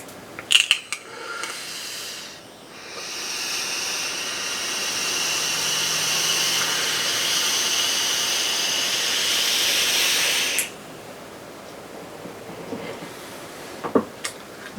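An Innokin Coolfire IV vape fires a stainless steel coil at 60 watts and 470°F, producing a steady close sizzling hiss for about eight seconds, framed by a few small clicks before and after.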